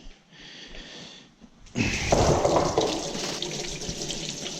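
Hot water gushes from a kitchen tap into a sink inside a truck's living quarters, a steady close splashing rush that starts abruptly after a quieter moment and continues to the end.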